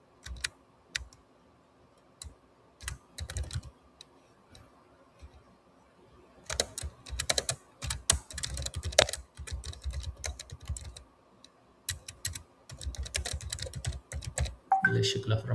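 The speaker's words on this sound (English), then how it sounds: "We have JSON here, so we'll type in the JSON." Computer keyboard typing while entering JSON into Postman for a serverless AWS API Gateway and Lambda web app: sparse key clicks at first, then dense, steady typing bursts, close and moderately loud, with a low hum underneath and no speech.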